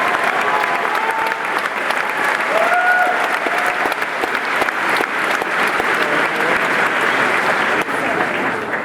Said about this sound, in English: Please give a round of applause to our Congressman